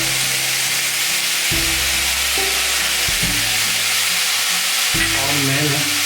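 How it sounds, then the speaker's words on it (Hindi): Chilli chicken sizzles and fries steadily in a hot pan as soy sauce and tomato sauce go in, with loud continuous frying hiss, sharp bursts of fresh sizzle and stirring scrapes throughout. "थोड़ा सोया सॉस डालते हैं इसमें और खुशबूदार करने के लिए।"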